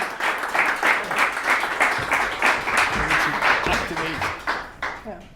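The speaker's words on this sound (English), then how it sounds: "So please give a round of applause." Audience applause as a speaker comes on stage at a Bitcoin talk, rhythmic clapping from a crowd that rises and falls in waves, with a few voices emerging near the end.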